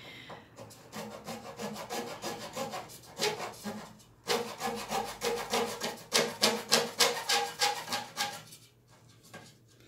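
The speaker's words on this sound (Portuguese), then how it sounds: "utilizando a serra, eu vou começar a serrar bem ali onde eu marquei" A hand saw cuts through a wooden rod at a marked line, with close rhythmic back-and-forth rasping strokes in two runs separated by a brief pause.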